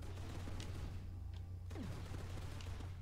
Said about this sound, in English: I'm now going a lot faster and overheating because of how many bullets I'm shooting